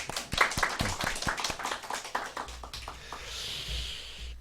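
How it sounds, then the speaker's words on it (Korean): Congregation in a Sunday worship service at Seoul Sharing and Serving Church clapping together in a quick, sharp burst of near handclaps, thinning out halfway into a low room rumble and murmur. "그런 의미에서 박수 한번 하겠습니다"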